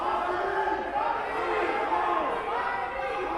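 Crowd noise at a high school wrestling match between Braintree and Framingham, a steady murmur of spectators with scattered shouts filling the gym.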